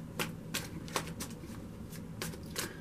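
Tarot cards are shuffled close by in a quiet room, giving a series of soft, crisp riffles and slaps spaced irregularly, with a faint background hum and no talking.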